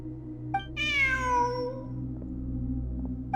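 A cat in Genshin Impact lets out a single clear, drawn-out meow over a steady low game ambience, followed by quiet background hum and faint clicks.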